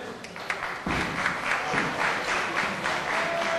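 A wrestling crowd in Dublin breaks into steady applause after a counter in the ring. The clapping swells suddenly and then holds as a dense, even wash of many hands.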